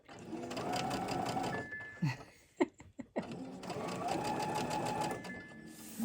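A sewing machine stitches half square triangles for a felt heart project, running in two long steady bursts with a short pause and a few soft clicks and handling noises in between.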